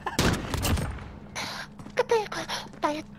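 A burst of rapid gunfire from the Modern Warfare shooter game rattles loud and close at the start, then gives way to excited voices talking over faint game sound.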